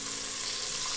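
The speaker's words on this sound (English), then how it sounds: "now we're going to add in our tomatoes, carefully without splashing myself or the cameraman" Tomatoes going into a hot pan give a steady, close hiss of sizzling with no gaps and no voices.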